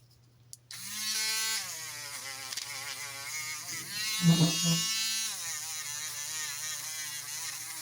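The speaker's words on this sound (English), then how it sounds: "Then we're going to go to our Dremel. And these are just the straight polishing heads." A Dremel rotary tool fitted with a straight polishing head buffs the typewheel head of an 1895 Blickensderfer No. 5 typewriter. It gives a steady, close, high-pitched electric whine with small shifts in pitch as it touches the metal.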